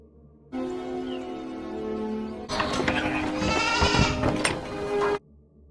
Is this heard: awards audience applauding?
no